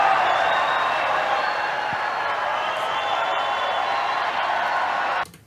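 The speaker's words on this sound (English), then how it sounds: "The cheering goes on for some time." A large CPAC audience cheers and applauds for Trump in a sustained, dense roar of clapping and shouting. It stays loud and even throughout, then cuts off abruptly near the end.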